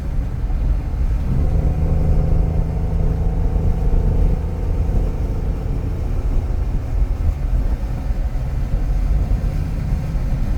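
A 2009 Honda Accord engine drones steadily from inside the cabin while accelerating uphill, a low rumbling hum with faint rising tonal whine, continuous throughout with no talking.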